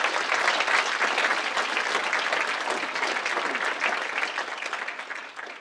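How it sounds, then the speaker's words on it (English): A high school winter concert audience claps for choir students in a dense, continuous wash of applause, loud and steady before easing slightly at the end. "if we could give a round of applause for those students too"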